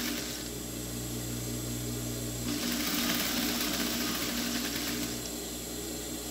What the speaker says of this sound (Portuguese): E vamos vir costurando.